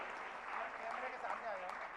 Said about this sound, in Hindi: जोरदार तालियां पर्व के लिए।